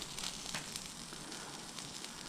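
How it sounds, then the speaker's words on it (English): A gasoline mixture laced with other additives, drained from a 1994 Ford/Mazda 3.0 Ranger pickup, burns with a steady, faint hissing sizzle and light crackles, heard close and alone. "It is sizzling like there's stuff other than gas in it."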